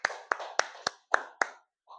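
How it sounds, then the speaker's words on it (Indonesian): Classroom clapping for a student group: six sharp, separate hand claps at a quick, slightly uneven pace, close and clear, followed by a brief faint voice at the end. "tepuk tangan buat kelompok Gisel"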